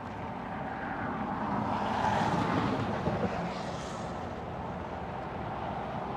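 JetBlue Airbus A320 arriving at Los Angeles International Airport after a flight from Salt Lake City, a steady broad jet roar that swells briefly and then holds at a moderate distance, with no voices.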